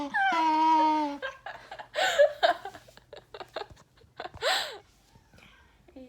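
A tired, grumpy pup named Leo lets out a high, wavering whine near the start, followed by scattered yips and whimpers amid clattering household sounds.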